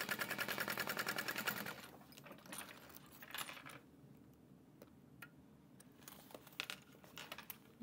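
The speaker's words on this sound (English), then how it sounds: "I'm gonna baste the top and bottom" Sewing machine basting the top and bottom edges of a fabric panel for a train case: a fast rhythmic needle run, then pauses with clicks and light rattles.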